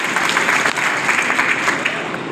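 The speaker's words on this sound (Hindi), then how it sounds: "मैं सभी कार्यकर्ताओं से इनके स्वागत और सम्मान में हम ताली बजाकर इनका सम्मान करें" Party workers applaud in welcome of a dignitary on his first visit to Bundi, a dense, steady wash of clapping close by for a couple of seconds without a break.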